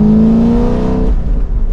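A modified 2023 Chevrolet Camaro 2SS convertible V8 pulls away with a loud, deep exhaust roar that climbs in pitch as it revs, then drops back to a heavy rumble, heard close with no talk.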